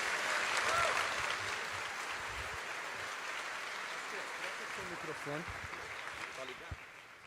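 Fairly faint, thinning applause from an event audience, fading under a voice that speaks over it and then carries on alone.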